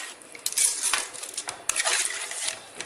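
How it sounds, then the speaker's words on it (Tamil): A spoon stirring chicken curry scrapes and clanks against a metal pot in quick, uneven strokes, with sharp metallic clinks standing out close by. "இப்போ இதில் நல்லா மிக்ஸ் பண்ணி விட்டுக்குவோம்."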